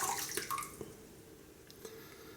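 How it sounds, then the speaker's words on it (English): A hot towel is wrung out by hand, water splashing and dripping in a brief burst at the start, then a few faint drips trail off in quiet surroundings. "simply take a hot towel, wring it out"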